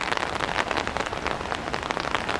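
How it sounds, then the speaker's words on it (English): Light, steady rain falls outdoors as a dense, even hiss of drops pattering on surfaces all around, unbroken and with no voices. "It's starting to rain a little bit more"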